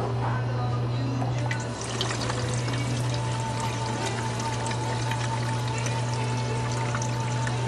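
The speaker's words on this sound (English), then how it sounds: "ready for a little gas" Gasoline poured into the fuel tank of a Tecumseh-engined lawnmower, a steady close trickling pour running throughout over a constant low electrical hum, with no talk.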